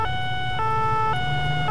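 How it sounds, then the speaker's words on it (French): An emergency vehicle siren in the video game Arma 3 Altis Life, a steady electronic two-tone wail alternating pitch, loud and alone with no talk. "Vas-y, mets la sirène et on se casse."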